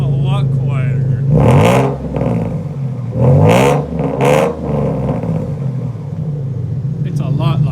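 A car on a new H-pipe exhaust is cold-started and revved, with several rising engine surges over a steady idle, loud and close, while people talk over it.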